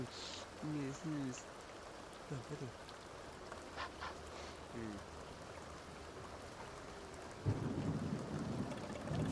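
A thunderstorm with rain in the farming game Farming Seeds, a faint steady rain hiss with soft rumbling thunder swelling louder near the end, under intermittent game chimes.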